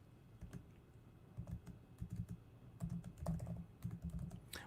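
Fingers type on a computer keyboard in quiet, irregular clusters of close key taps, with short pauses between the runs.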